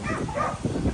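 A dog barks in a brief burst amid background noise, fairly close and loud.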